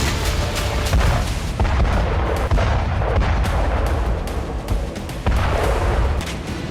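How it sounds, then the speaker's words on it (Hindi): Self-propelled gun artillery fires near Bakhmut, making loud, dense, continuous booms and heavy rumbling blasts that overlap with no pause, close and powerful. "बाखमुत में रूसी सैनिकों ने सेल्फ प्रोपेल्ड गन G8-S से यूक्रेनी पोस्ट को उड़ा दिया।"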